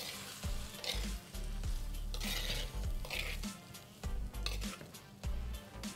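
Sabzi with turmeric powder and salt being mixed in a pan, soft sizzling with repeated scraping and clinking of a spoon against the pan in uneven bursts, no talking.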